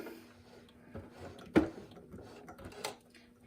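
A Singer 4411 sewing machine hand wheel is turned by hand to catch the thread, giving soft mechanical clicks and a sharper knock midway, with faint rustles in a quiet room.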